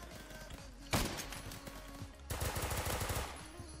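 Machine gun firing in the Roblox shooter Phantom Forces: two loud, dense bursts of rapid automatic fire, the second longer and rattling, over a steady background hum.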